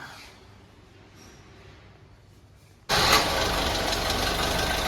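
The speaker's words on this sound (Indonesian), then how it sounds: "berikutnya langsung saya cek sound untuk mesinnya" A manual Mercedes-Benz W car sits quietly with faint background hiss before its engine cranks and catches abruptly, then settles into a steady, close, fairly loud idle for the remaining seconds, with no talking.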